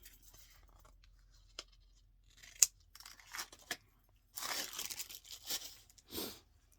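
Scissors snipping through paper for Bible journaling, heard as a few short, sharp cuts followed by longer crisp bursts of cutting and rustling, close and fairly quiet with no talk.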